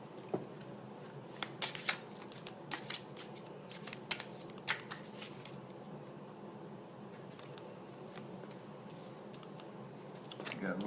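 Oracle cards are shuffled for a card reading, a close riffling and flicking in bursts of quick crisp snaps that run on softly underneath, with faint talk in the background.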